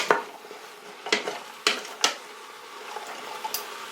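Yukon Gold potatoes stirred in an Instant Pot set to saute, a handful of sharp spoon knocks and scrapes against the metal pot in an uneven rhythm, then softer clicks over a faint background hum.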